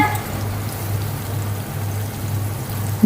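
Sliced onion and green chillies frying in a pan, a steady close hiss and crackle of sizzling oil that stays even throughout, with a low background hum.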